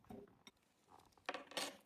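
A metal spoon clinks faintly a few times as it scoops powder during a children's hands-on experiment, with short quiet taps spread across a mostly hushed moment.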